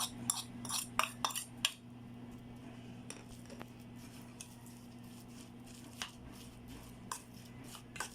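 Utensils scrape and clink in a bowl while banana heart ball mixture with pepper, seasoning and sauté mix is stirred, giving a few sharp clatters at first, then a soft squishy churning with occasional taps.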